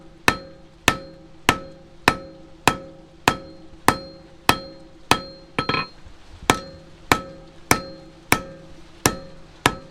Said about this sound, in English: First I'll hammer it down flat one direction.